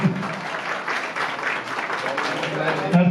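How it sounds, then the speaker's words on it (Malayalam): Audience applause fills a hall at an awards ceremony, with a dense, steady wash of clapping running throughout and no clear individual claps. The ceremony is the 2024 NCP Awards. "നല്ലൊരു കൈയടി."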